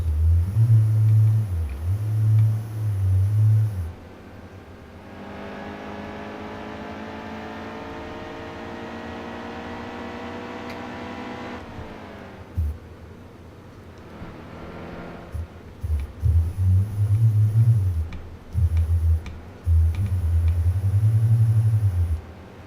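Race truck engines roar in NASCAR Heat 2 during a Camping World Truck Series race at Gateway Motorsports Park, with loud pulsing engine drones, a long steady whine in the middle, and engine surges returning near the end.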